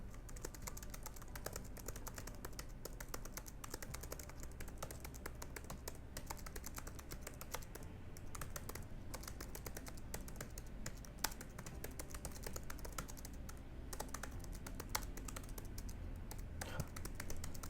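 Computer keyboard typing out a novel by hand, a steady stream of dense, rapid key clicks with occasional heavier strokes, close and continuous throughout with no voice present.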